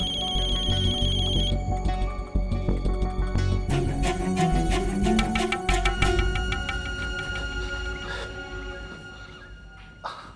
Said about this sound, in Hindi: फोन आ रहा है यार